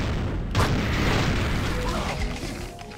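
Enemies bursting apart in the game Doom, with a heavy booming explosion near the start followed by a sustained rumbling blast wash that slowly fades, loud and close.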